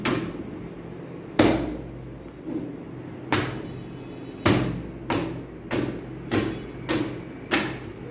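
Chocolate is patted into a heart-shaped mould in a chocolate art class, giving about nine dull, separate knocks at a steady pace, close and fairly loud with a faint background hum between them.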